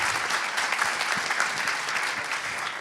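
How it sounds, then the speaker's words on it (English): A conference audience at a Python developer event claps in a brief, steady burst of applause for a speaker, dense and even from start to finish. "give a big round of applause for Marco"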